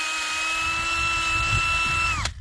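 A cordless power drill bores into a maple tree to tap it for sap, its steady high motor whine running loud and close for about two seconds before winding down abruptly at the end.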